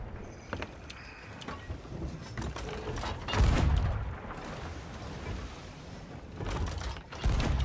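Gunfire in the pirate video game Sea of Thieves: bursts of shots and heavy booms crackle over a dense, rumbling battle mix, loud and continuous with a few sharper peaks, no clear talk over it.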